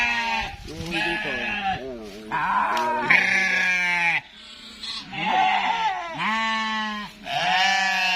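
Goats bleat repeatedly on a farm where sheep are also kept, loud close calls coming one after another in long wavering cries with brief gaps between them.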